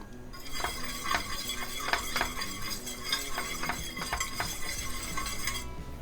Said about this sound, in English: You want to whisk it regularly because you don't want your cornstarch to settle to the bottom and stick to the bottom of the pan